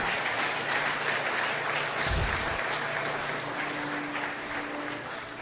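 Congregation applause during a church service, a steady wash of clapping from a gathered crowd with a brief thump partway through, heard from a moderate distance with no speech over it.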